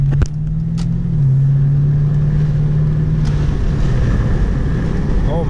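A Lexus GS400 V8 with a freshly modified exhaust, heard as a steady, loud, close engine drone that holds a low pitch, rises slightly and then settles, with someone talking over it.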